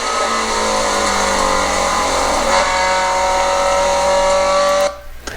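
A Scion FR-S on a race track revs hard. Its engine note climbs steadily and loudly through the gear for about five seconds, then drops sharply as the driver lifts or shifts.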